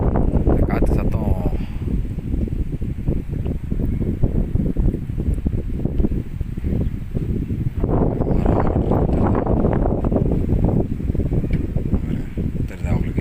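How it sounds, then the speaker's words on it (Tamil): Strong wind gusting outdoors at night on a trek, a steady loud roar with rustling surges, and someone talks over it throughout. "இந்த காற்று சத்தம்"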